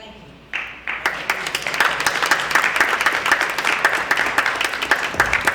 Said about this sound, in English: Give him another round of applause, y'all.